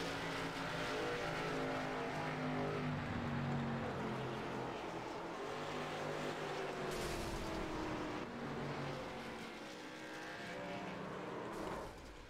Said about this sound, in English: As Chad Collier is going to blow the engine, car locks up and goes for a spin.